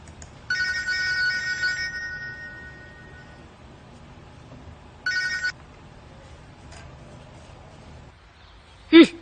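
A phone ringtone plays in a couple of bursts with a pause between, then cuts off unanswered, followed by a short sharp sound.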